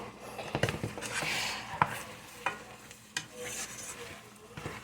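Ground meat for homemade sloppy joes sizzles in a pan while a utensil stirs and scrapes through it, giving a soft continuous frying hiss broken by several scraping strokes. No one speaks.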